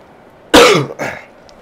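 One loud, close cough or throat-clearing burst with a shorter follow-up hack, over faint background hiss.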